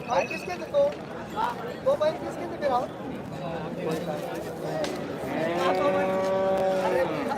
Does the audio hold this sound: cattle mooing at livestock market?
yes